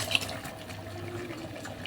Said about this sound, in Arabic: هزود احط بس شويه ميه كمان بس.